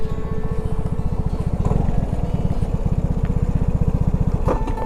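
A Vespa scooter's small engine runs steadily at close range on a road trip through Thailand toward Malaysia, a fast rhythmic putter with a faint rattle and no talk.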